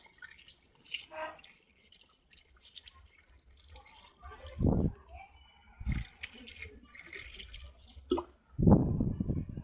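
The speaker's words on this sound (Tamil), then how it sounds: "ஸோ எதுக்கும் நம்ம 2 லிட்டர் ஊற்றிட்டு அது இன்னொரு லிட்டர் பிடிச்சிட்டு வந்து ஊற்றுறோம்." Coolant water poured into the coolant tank of a Renault Kwid car during a coolant change: intermittent splashes and glugging pours with scattered drips, close and fairly quiet, broken by pauses and faint handling noise.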